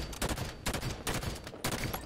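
Rapid automatic gunfire in Halo 5: Guardians Warzone Turbo, several loud close bursts rattling in quick succession with brief pauses between them.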